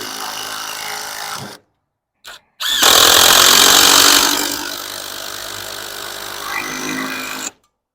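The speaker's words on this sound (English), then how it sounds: "So we're gonna get screws started in here." A power drill whirs in bursts, driving screws into wood gable end posts on a barndominium build, with short pauses between runs and a grinding, loud close-up sound.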